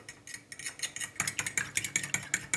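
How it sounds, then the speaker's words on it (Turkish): Eggs being stirred into churros dough in a bowl: a quick run of soft, repeated utensil scrapes and taps close by, rhythmic and steady with no talking. "Karıştırıyorum."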